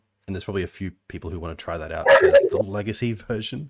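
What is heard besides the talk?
dog barking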